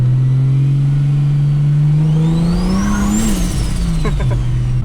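A car with a welded differential drifts as its engine revs hard, a loud sustained engine tone rising and climbing in pitch, then dropping back, with tire noise underneath.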